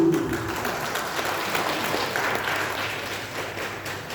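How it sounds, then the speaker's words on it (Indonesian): Applause rises from the audience at a regional council plenary session, a steady, fairly distant wash of clapping that fills the hall with little talk. "Tepuk tangannya mana ini?"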